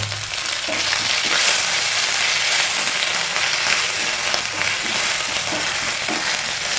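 Ginger and garlic frying with onions in a pan for fish biryani give a steady, loud sizzle with faint stirring scrapes, continuous throughout.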